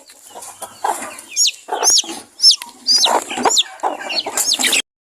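Chickens on a farm cluck and squawk agitatedly as they attack a chick, with repeated sharp high chirps and calls in quick irregular bursts, close and loud, and no speech.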